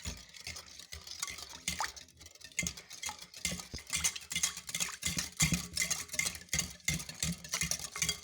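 An egg being beaten in a bowl with a fast, steady run of wet clicking taps that speeds up and grows louder, close and without any talk.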